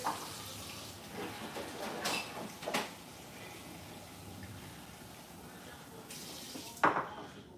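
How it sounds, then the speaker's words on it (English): Cold tap water runs steadily into a bowl to cool boiled eggs for a seafood boil, a continuous hiss broken by a few clatters and knocks. "I'm gonna put them in some cold water real quick."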